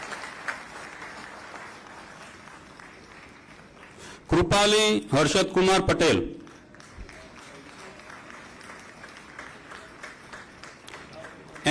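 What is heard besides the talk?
audience applause at a convocation ceremony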